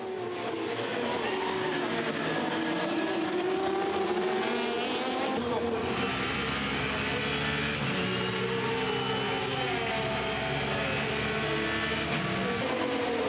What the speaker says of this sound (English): grabbed the inside line and forced his BMW back into the lead at La Source